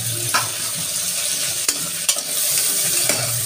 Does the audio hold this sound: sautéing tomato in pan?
yes